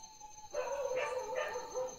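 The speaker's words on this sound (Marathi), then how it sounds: "डॉगी भुकतात" A pet dog barks at home at night, a couple of short, muffled barks sitting over a steady tonal hum, fairly quiet and not close.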